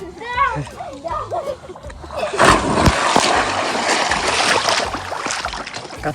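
Someone plunges into a new swimming pool, sending up one loud, broad splash midway through, followed by sloshing, churning water, with children and adults talking and calling out before and around it.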